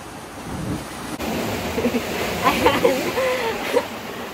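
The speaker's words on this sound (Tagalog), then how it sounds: "Yung alon pumapasok, mababasa ang shoes." Ocean waves wash in over a rocky shore at Cape San Agustin, a continuous hiss of surf with wind buffeting the microphone while people talk over it.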